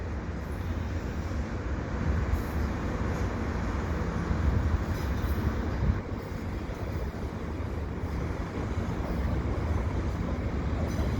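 A CN freight train hauling container cars rolls past at Dorval, giving a steady low rumble and clatter of wheels on track, fairly distant and even throughout, with no voices.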